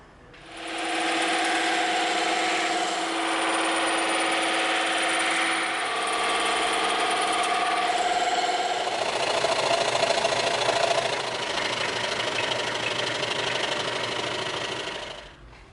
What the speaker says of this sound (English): now we can go over to the bandsaw and the scroll saw and cut these out